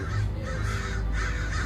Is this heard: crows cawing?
yes